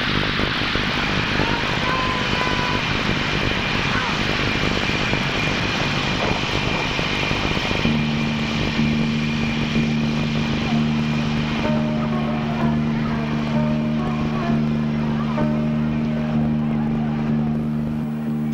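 Iran Air airliner arriving at Canberra in 1974, its engine roar steady and loud throughout, settling into a sustained droning hum in the second half, with no voices.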